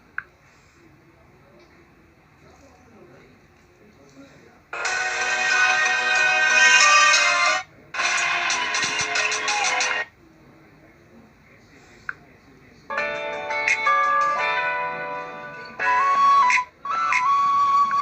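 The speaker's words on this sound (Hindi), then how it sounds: "मैं इसमें आपको गाना चला के दिखाता हूँ।" A song plays from a phone's small speaker, loaded from USB storage through a homemade OTG adapter made from an old data cable, sounding in several bursts that start and stop repeatedly, with a faint click near the start.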